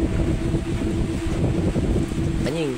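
Heavy rain and wind at night outside an empty house, a loud, steady roaring wash with buffeting wind noise on the microphone throughout, ending with a brief wavering tone.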